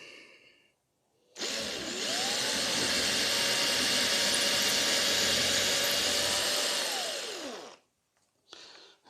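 A power drill bores holes through a plaster-surfaced model railway layout base, one sustained loud whirring run of about six seconds that winds down, with a brief burst of motor noise just after.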